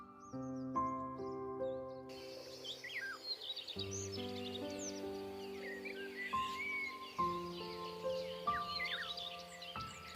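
Birds chirp and tweet in the morning, with scattered high calls running throughout over steady, tonal background music and no talking.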